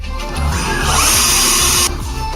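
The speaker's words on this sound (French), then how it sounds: "Et c'est une visseuse. Ah, tu ne fais que visser, en fait." Electric screwdriver whirring loud and close as it drives screws, motor pitch rising under load for about a second and a half before cutting off abruptly.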